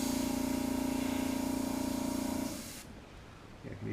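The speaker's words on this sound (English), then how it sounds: "I'm just making sure that it sprays" A paint sprayer hisses loudly and steadily for a couple of seconds while spraying onto a bench edge, then cuts off, leaving quieter room noise and a faint clatter.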